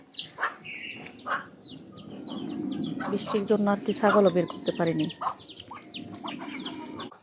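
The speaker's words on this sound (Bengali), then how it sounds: "এই যে হচ্ছে আমাদের বাচ্চাওয়ালা মুরগিটা" A mother hen with four young chicks clucks softly while the chicks peep in thin, high chirps nearby, with a person talking over them.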